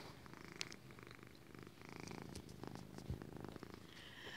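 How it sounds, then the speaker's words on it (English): An orange cat purrs steadily up close, a low continuous rumble with a soft rhythmic pulse, quiet and alone without talk. "If you can hear her, she's purring."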